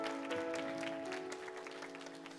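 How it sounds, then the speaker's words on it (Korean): Church congregation at a young adults' worship service applauding warmly for a departing member, soft scattered clapping at a moderate distance beneath a steady musical hum. "따뜻한 격려의 박수 함께 나누도록 하겠습니다"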